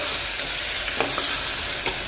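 Spices with salt, turmeric and coriander powder roast in a pan, giving a dense, steady hiss of frying with a few faint stirring clicks, heard close and without talk.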